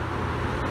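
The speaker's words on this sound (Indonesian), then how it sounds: "Agrawes bus pertama yang lewat." An Agrawes intercity bus passes a highway rest area at KM 429 Ungaran, a steady close engine and road roar filling the whole moment with no break.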